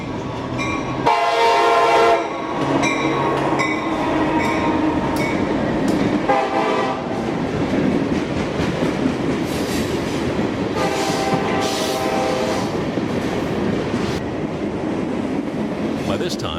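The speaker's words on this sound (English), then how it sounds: "3:54 p.m. southbound Q613. Molten sulfur tanks and empty hoppers for the Bone Valley at Mulberry." Southbound Q613 freight train hauling molten sulfur tank cars and empty hoppers rolls past near Mulberry, a steady heavy rumble of wagons broken by several loud horn blasts, with faint voices now and then.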